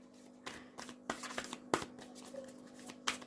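A deck of cards is shuffled by hand in a quiet room, giving a series of soft, brisk riffling bursts spaced irregularly over a few seconds.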